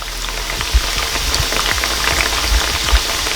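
Beef and red wine ravioli sizzle and crackle steadily in a hot frying pan, with a few sharper pops and spits breaking through the dense, continuous frying hiss.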